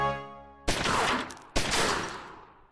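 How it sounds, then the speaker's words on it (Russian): Two sharp gunshots ring out in a video game, each a sudden loud crack followed by a long echoing decay, about a second apart, after a brief low tonal hum. "Суперточный прицельный выстрел."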